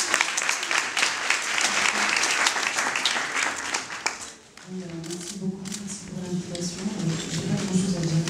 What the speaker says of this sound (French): c'est pourtant bien en tant que complice du festival qu'elle débarque à Liège, sous vos applaudissements, mademoiselle Stéphanie Blanchoux.